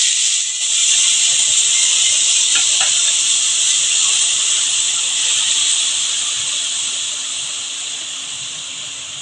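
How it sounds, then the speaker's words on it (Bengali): Fenugreek greens dropped into hot oil for methi paratha give a loud, steady steam-like sizzle and hiss that holds strong throughout and fades slightly toward the end, with no talking. "আমার তেল গরম হয়ে গেছে এখন আমি শাকগুলো দিয়ে দিচ্ছি"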